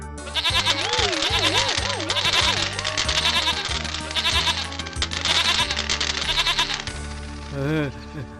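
Cartoon goat bleats several times with a wavering, quivering cry over loud background music and sound effects, with a final short bleat near the end.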